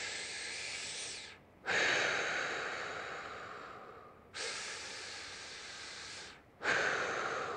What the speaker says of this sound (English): Now we'll get our breath, take a couple here.